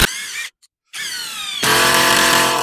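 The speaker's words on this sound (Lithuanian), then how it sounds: "Įsuksim, o kai susuksim pasileis kažkiek ir pažiūrėsim." A power drill or impact driver drives a bolt into timber rafters during farm shed roof framing, whirring in two close, loud bursts separated by a short pause, the second burst rising and running steadily to the end.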